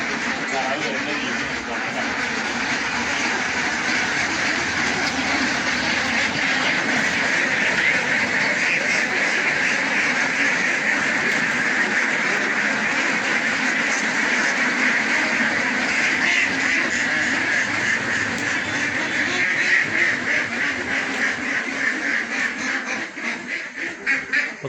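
A flock of ducks on a duck farm, with ducklings heading to their coop, quacking continuously in a dense, loud chorus that stays steady throughout with no pauses.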